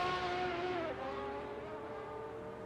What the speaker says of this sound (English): You just about hear me revving.